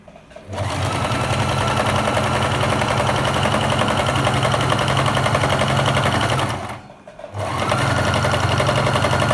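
Sewing machine stitching the seams of a pillow cover, running in a loud, steady rapid whir for about six seconds, pausing briefly, then starting again with no talk over it.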